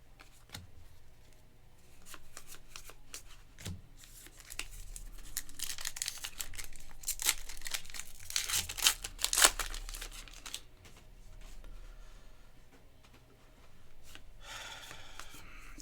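Trading card pack wrappers for 2024 Topps Heritage High Number being torn and crinkled, in bursts of crackling foil and rustling that rise in the middle, close to the microphone with no talking.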